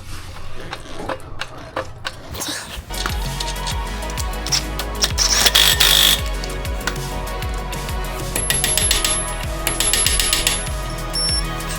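An impact wrench tightens a car's rear axle nut during a spindle swap, hammering in a steady rapid rhythm of sharp mechanical blows that runs for several seconds after a short quiet start, close and fairly loud.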